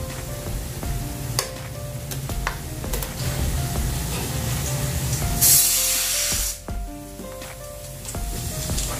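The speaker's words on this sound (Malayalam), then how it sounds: "ഇനി നമുക്ക് ഇതിലേക്ക് അരച്ച് പേസ്റ്റാക്കിയിട്ടുള്ള ഇഞ്ചി, വെളുത്തുള്ളിയും ചെറുവള്ളിയും കൂടെ ചേർത്ത് കൊടുക്കാം." Ground ginger, garlic and shallot paste sautéing with onions for Tamil Nadu style Thalappakatti beef biryani, a loud continuous hiss and sizzle with spoon scraping and clinks, surging into a brief bright spray-like burst midway.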